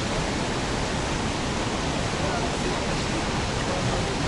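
A small waterfall in Manavgat, Turkey, rushes in a steady, dense hiss of falling water, constant and close, with no other sounds.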